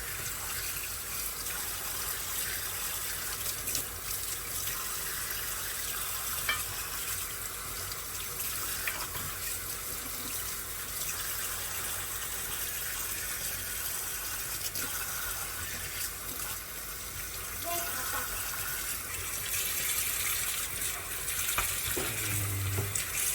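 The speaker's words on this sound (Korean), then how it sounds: "흐르는 물에 깨끗하게 씻어주세요" Tap water runs continuously into a sink while beef short ribs are rinsed under it, a steady close hiss with faint handling splashes and no talk.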